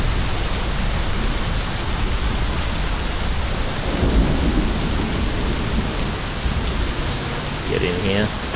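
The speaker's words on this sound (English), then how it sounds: "Here comes the rain." Rain and thunder in the video game My Summer Car form a dense, steady downpour with low rumbling underneath, loud and continuous throughout.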